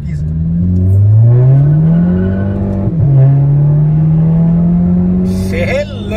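An Audi A3 1.8 turbo, stage 2 tuned, accelerates hard with a loud rising engine note through the gears, a brief dip at a shift, then voices cut in near the end.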